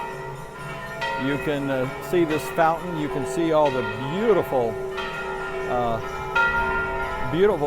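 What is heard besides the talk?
church bells ringing at noon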